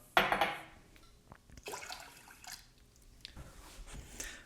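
Keto caramel ice cream ingredients go into a pan: a brief splashy pour at the start, then soft liquid shuffles, drips and light clinks against the pan, quiet and close.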